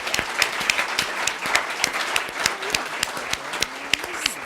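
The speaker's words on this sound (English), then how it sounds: "Please give our sponsors a big round of applause." A round of applause from the audience at a creativity conversation event honoring its sponsors, steady crisp clapping from many hands at moderate volume with a few faint voices mixed in.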